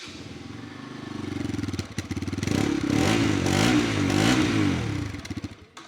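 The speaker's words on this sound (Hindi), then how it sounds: "इस बाइक के एक बार मैं साउंड सुना देता हूँ आप लोगों की साउंड कैसी है" A 2025 Bajaj RS200 sport motorcycle engine revs up loudly, its throaty growl rising and holding steady at close range before dropping off at the end.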